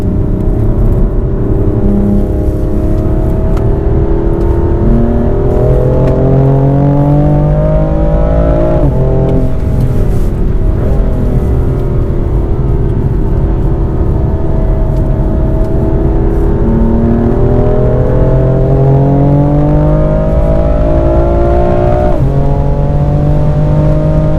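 A BMW M sports car engine revs hard and climbs through gears on a race track, pitch rising and dropping at each shift, loud and close with no talking.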